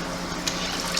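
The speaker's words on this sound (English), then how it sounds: "you squeeze the bottom. You want to get most of the water out." Water dripping and trickling back into a mop bucket as a wet mop is squeezed out during break-room mopping, a steady watery splatter with a couple of brief sharper drips, close by and without talk.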